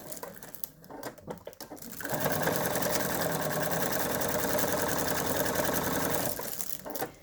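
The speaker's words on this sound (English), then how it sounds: "we're going to begin sewing with a 1/2 inch seam right where you folded it down" A sewing machine runs steadily for about four seconds, stitching a half-inch back-stitched seam through crinkle material for a lap pad, with brief handling noises before and after the run.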